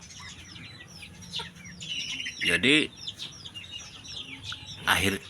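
Day-old chicks peep and cheep in high, scattered calls with a few louder chirps, while a voice speaks briefly over the flock.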